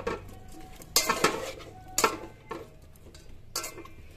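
A utensil scrapes and clinks against a pan as soaked meal maker is stirred into vegetables, giving several sharp knocks spaced about a second apart over faint cooking noise.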